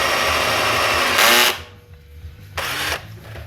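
A power drill bores out a broken muffler bolt on a Honda lawn mower in two short, loud whirring bursts separated by a quieter pause, heard close up.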